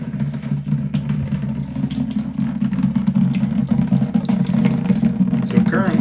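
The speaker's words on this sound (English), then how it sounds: "So currently the water's coming out of the top pipe" Water pours steadily from a pipe into a bucket during a home water softener installation, a constant close rushing splash with a low hum beneath it, and a voice talks briefly over it.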